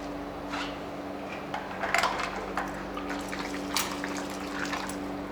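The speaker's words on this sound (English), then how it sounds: "just take off the hose so the water can run free out of the" Water runs freely from a pressure washer with the hose taken off, giving a steady, soft splashing and trickling under a constant machine hum, with a few brief louder splashes.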